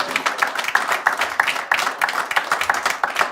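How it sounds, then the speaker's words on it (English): A crowd at a regional awards ceremony breaks into steady, sustained applause for the event's sound technician. The clapping is dense and even throughout, with no voices over it. "Big round of applause"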